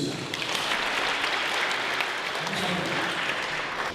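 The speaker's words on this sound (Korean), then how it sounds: "하나님께 감사와 영광의 박수를 드리겠습니다." Steady, sustained applause from an audience at a Korean church workplace mission gathering, dense clapping filling the room evenly from start to finish.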